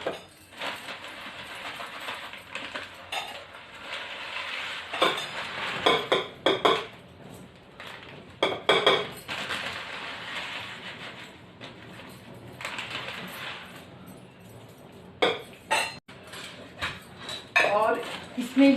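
Kitchen containers and dishes clink and clatter intermittently while poha is stored away at home. The sharp metallic knocks come in scattered bursts, and a person talks in between.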